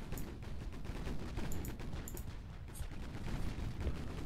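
7-inch naval guns firing in Ultimate Admiral: Dreadnoughts, a dense rumbling barrage of booms with sharp cracks scattered through continuous low battle noise.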